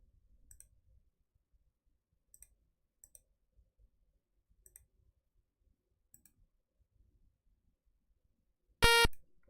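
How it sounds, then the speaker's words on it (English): Soft scattered clicks tick through near silence before a sudden loud, sharp beep sounds during a game stream and lasts about half a second. "Oh wow, that was a loud beep."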